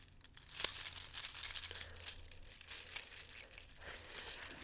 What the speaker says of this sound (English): I have a lot of important keys I'm going to be showing you today.